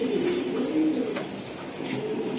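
Racing pigeons at a breeder's loft coo in soft, low, continuous rolling calls, close and steady throughout, with a few faint chirps over the top and no talking.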